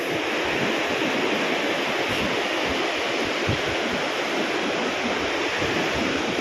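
Steady, dense roar of waves crashing and churning on the shore, continuous and loud throughout with no pauses and no voices.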